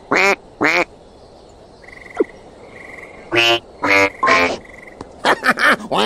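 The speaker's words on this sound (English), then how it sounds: "You sound just like a real duck, Monsieur Bear." Character in the Open Season video game repeating a duck's secret code as a quacking sequence: a few short nasal quacks, a pause with a thin tone, then a quicker run of several quacks, close and clear with no talk.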